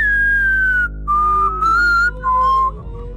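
Whistled melody in a Roblox Murder Mystery 2 session, several short sliding pure-tone phrases separated by brief gaps, loud and close over a steady low hum, without speech.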